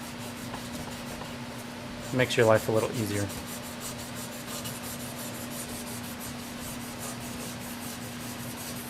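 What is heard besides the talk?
sandpaper sanding a trumpet part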